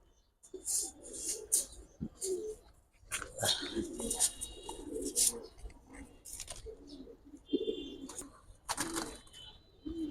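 Giribaz high flyer pigeons coo repeatedly and close by, their soft throaty calls overlapping steadily throughout, with a few sharper chirps and occasional human voices mixed in.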